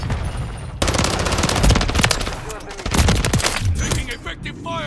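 Automatic gunfire rattles through a Call of Duty Modern Warfare 3 multiplayer firefight, opening after a short lull with loud, dense bursts and continuing nearly nonstop, mixed with game chatter and battle noise.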